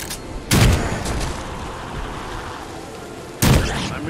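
Two loud shotgun blasts in the video game Evil Dead: The Game, a couple of seconds apart, each a sharp booming crack that decays into a rumbling tail over a low background din, with no talking.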